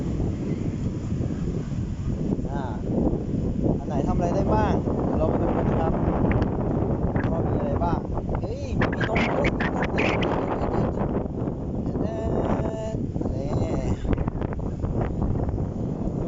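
Strong wind roars continuously into the microphone at the seashore, a dense buffeting rush with faint voices and clatter beneath it.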